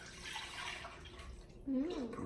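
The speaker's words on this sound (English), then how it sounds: "This is our coconut milk. So we're gonna pour this right in there." Coconut milk being poured into a blender, a short close liquid gurgle and splash at low volume, with a voice speaking over it.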